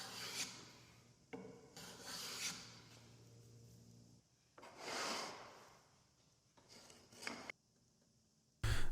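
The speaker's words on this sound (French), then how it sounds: "Ensuite, je coupe 4 planchettes de noyer de même largeur, et je nettoie le trait de coupe au rabot." Hand plane passes cleaning the saw cut on small walnut boards: several bursts of rasping, rubbing wood noise separated by pauses, close and moderately loud, with a sharp knock at the very end.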